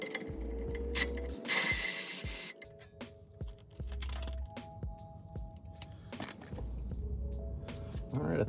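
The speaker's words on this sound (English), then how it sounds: "We got to remove these bolts right back here." A ratchet wrench working the brake caliper bolts on a Ford Mustang during a DIY brake job, with bursts of rapid metallic clicking, some spraying and tool clatter mixed in, close and fairly loud.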